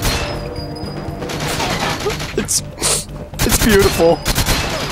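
Gunfire in GoldenEye 007 on the Wii, on the Solar level, with repeated shots and bursts mixed with game noise while a voice talks over the action.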